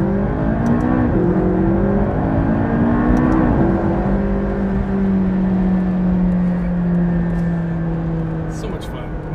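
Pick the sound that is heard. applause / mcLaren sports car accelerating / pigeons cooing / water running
mcLaren sports car accelerating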